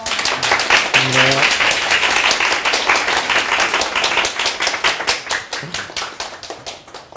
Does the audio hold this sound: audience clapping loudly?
yes